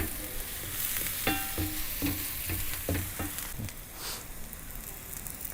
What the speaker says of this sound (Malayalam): എന്നിട്ട് ഇതുപോലെ ലൈറ്റായിട്ടൊന്ന് വഴറ്റിയെടുക്കുക